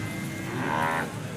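A large horned bull lows once in a drawn-out, moderately loud moo at the Chattipparamba cattle market, with steady crowd and market noise beneath it.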